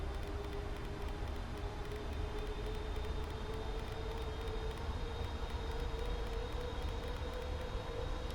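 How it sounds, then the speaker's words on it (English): PMDG 777-300ER engines adding power in Microsoft Flight Simulator, a steady airliner engine drone with a sustained whine, holding evenly at moderate volume with no talk. "Aircraft putting in the power to match the turn, and we move into the descent."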